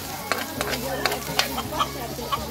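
Tomatoes are stirred and mashed in a sizzling frying pan, with a steady frying hiss and several sharp scraping clinks of the utensil against the pan at an uneven rhythm.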